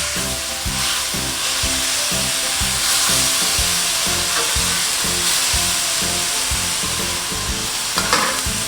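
Bulgogi sizzles steadily in a hot non-stick frying pan, a loud continuous hiss broken by regular scraping and stirring strokes, with no talking.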